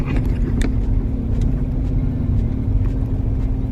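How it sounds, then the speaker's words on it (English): Heavy low rumble of car engines fills the scene while arriving at a rum festival in Jamaica, steady close vehicle drone with a faint hum and scattered clicks, no speech. "Oh my god, look at the traffic."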